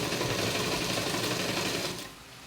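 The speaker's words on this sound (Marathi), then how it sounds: "आता याला मी परत टिप मारून घेते" Sewing machine stitching a blouse seam, a steady, loud, fast whirring run that stops abruptly near the end, leaving a quieter background.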